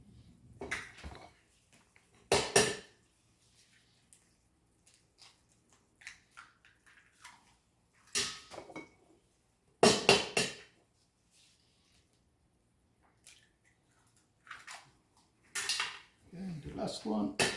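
Four eggs cracked into a pan of shakshuka: sharp, separated knocks and clinks of shell and utensil against the pan, with quiet gaps between them and brief speech in places.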